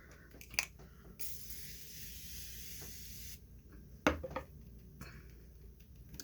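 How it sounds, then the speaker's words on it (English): Morphe setting spray misted onto a face in a steady hiss lasting about two seconds, close and fairly loud, surrounded by small taps and handling clicks. "I'm going to use some Morphe setting spray"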